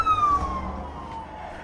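An ambulance siren wails past, its pitch sliding steadily downward as it moves away, loud at first and then fading, with low road rumble beneath and no talking.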